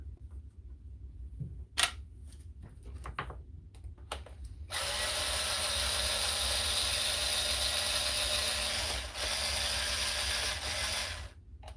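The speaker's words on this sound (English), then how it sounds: "I'll take the screws out of it." Screws being removed from a Sealey power tool battery: scattered sharp clicks and ratcheting ticks for about four seconds, then a steady loud whirring drone from a driver that runs continuously to the end, with no talk.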